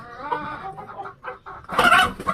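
Fayoumi hens on a poultry farm give a brief burst of close clucking, a few choppy calls and then a louder, rising squawk at the end.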